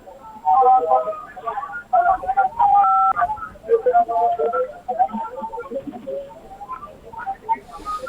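A series of short electronic keypad beeps, like phone dialing tones, from a phone on speaker at a protest site, mixed with muffled voices and room noise, loud and close.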